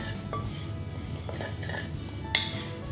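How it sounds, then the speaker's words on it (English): Dry ingredients for low carb ANZAC biscuits are stirred in a bowl, quiet scraping and clinks of a utensil against the bowl with one sharper clink near the end. "So that's all our dry ingredients in the bowl there. I'll just give that a quick mix together."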